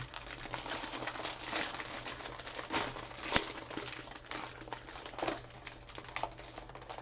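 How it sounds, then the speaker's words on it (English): Crinkly plastic bags of Lego parts rustle and crackle steadily near the microphone during a Lego A-Wing build, with a few sharper crinkles standing out from the continuous noise. "with all these crinkly bags, it's got to be pretty noisy"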